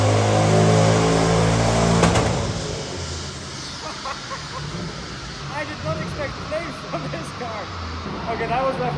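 A Mercedes E55 AMG engine on a dyno revs hard to the rev limiter, a loud close roar that cuts off, then a lower idle with people talking over it.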